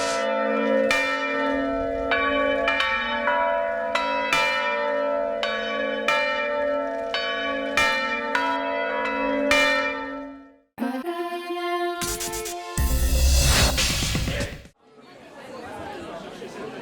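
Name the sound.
church bells ringing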